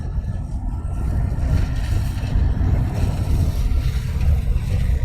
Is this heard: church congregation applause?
no